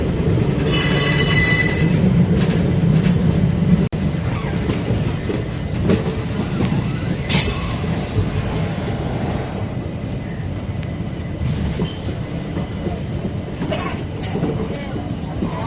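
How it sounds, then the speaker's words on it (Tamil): A train rumbles steadily through Nagapattinam station with squealing wheels and rattling carriages, loud and continuous, with a large crowd's voices mixed into the noise. "நாகப்பட்டினம் ஸ்டேஷனுக்குள்ளே சரியான க்ரௌடில் கருவடிச்சு நம்ம ட்ரெயின் போயிட்டுருக்கு"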